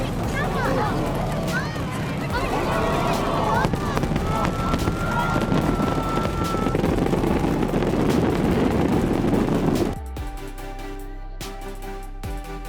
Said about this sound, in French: Le spectacle de feux d'artifice de Dalian.